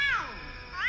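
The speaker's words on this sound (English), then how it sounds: "Cat!" A cat meows once, a clear rising-and-falling cry up close, in a tense scene where people are trapped behind a stuck door.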